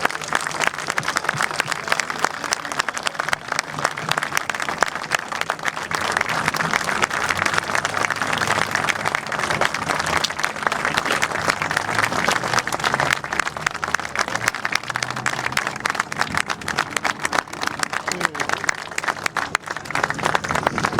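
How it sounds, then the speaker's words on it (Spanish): A large audience gives sustained applause at a political gathering to remember a deceased figure. Dense clapping rolls on steadily throughout with faint crowd murmur beneath. "lo primero que voy a hacer es pedirle un aplauso para Jorge en su recuerdo"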